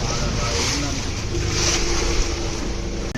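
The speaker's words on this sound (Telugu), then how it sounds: "ఓ పడవేంటి అలా ఊగుతుంది." A boat rocks on the Alleppey backwaters amid a steady wash of water and wind buffeting the microphone, fairly loud and continuous, with faint voices in the background.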